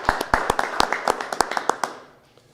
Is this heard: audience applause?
yes